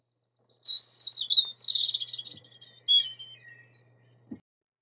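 Blackbird song: mellow, fluty phrases rolling out in a short burst, clear and moderately near, with a faint low hum beneath and a couple of soft knocks.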